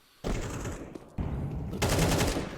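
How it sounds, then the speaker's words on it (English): Rapid automatic gunfire in the Counter-Strike 2 video game during a pro match, with dense, loud bursts that start abruptly and come in two sustained volleys, with faint voices underneath. "Regali is shot through the wall"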